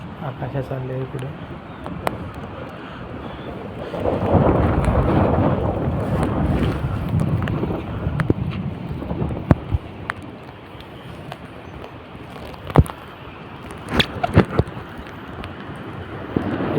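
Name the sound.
heavy rain and thunder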